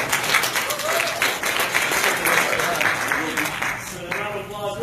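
An audience at a deals meetup breaks into applause, a brisk wash of clapping that swells and fades over a few seconds, with voices talking through it.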